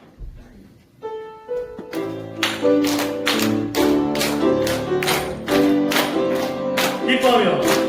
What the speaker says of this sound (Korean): 우리 같이 박수 치면서 찬양하겠습니다